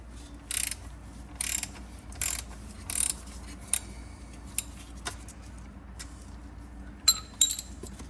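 Repeated metallic ratcheting clicks from a hand wrench loosening the transfer case drain plug on a Jeep Grand Cherokee WK2, in short bursts with pauses, close by, followed by scattered lighter ticks and clinks.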